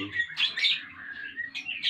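Bright, warbling birdsong from a white-rumped shama, rapid whistled phrases and chirps, fairly close and continuous, with no voices present.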